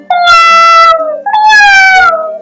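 A voice imitates a cat's meow twice, two drawn-out, wavering mews with a brief gap between them, loud and close.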